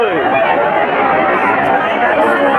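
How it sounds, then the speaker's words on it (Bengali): A huge crowd packs the platform at Digha railway station, a dense, loud and steady hubbub of many overlapping voices and bustle just after passengers step off a train. "অজস্র ভিড়"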